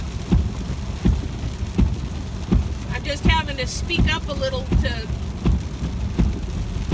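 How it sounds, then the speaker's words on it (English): Light hail and heavy rain pelt a car while windshield wipers thump in a steady, regular rhythm over the defroster fan's constant hum, with a person talking loudly over the din. "speak over the sound of the wipers, the fan for the defroster, and the pounding, pelting"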